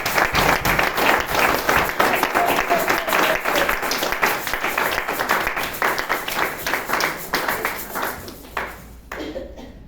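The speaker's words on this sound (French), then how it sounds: "Si nous avons la joie, donnons l'offrande de l'acclamation à notre Seigneur Jésus-Christ" A church congregation claps enthusiastically during a year-end service on faith, a dense, loud burst of applause that holds steady for several seconds before thinning out and fading at the end.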